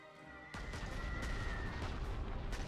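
Bombing attack on the town of Sedan in the strategy game Panzer Corps 2, Fall Gelb campaign: a sudden loud burst of rumbling explosions and gunfire-like booms that continues densely, with a sustained tone running underneath for about a second.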